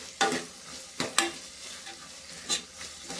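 A spice mixture frying in a pan while being stirred, with a steady sizzle under a few scraping, clinking strokes of the spoon against the pan, close up and without speech.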